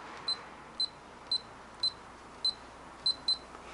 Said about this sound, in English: You hear it go beep beep.